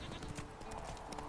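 Clip-clop hooves of Roach, a horse galloping in the video game The Witcher 3, pound in a steady continuous rhythm with a brief whinny, all fairly close and under low game ambience.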